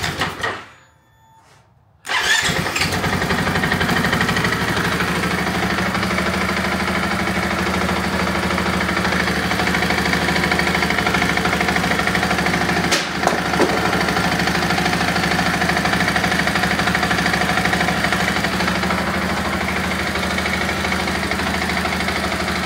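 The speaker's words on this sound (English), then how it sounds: "I have to start the bike to activate the lighting system." A 2024 Husqvarna FE501S dual sport motorcycle engine starts after a brief quiet moment, then idles steadily and loudly close by with an even, continuous mechanical drone.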